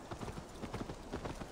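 Quick, soft clip-clop of a horse's hooves in Assassin's Creed Valhalla, a steady trotting rhythm heard faintly and alone.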